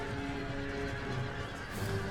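Cavalry horses in Empire: Total War whinny and neigh loudly over a dense battle din, with hoofbeats clip-clopping underneath throughout.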